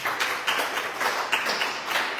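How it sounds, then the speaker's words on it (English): Brief round of applause from a seminar audience, a moderate cluster of claps rising and falling in short bursts. "Have a round of applause, please."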